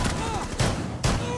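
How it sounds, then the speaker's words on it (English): Gunfire in Rainbow Six Siege, two loud broadband shots about half a second apart over a dense background of game sound and faint voice. "I got some shots on Mr. Shield down there."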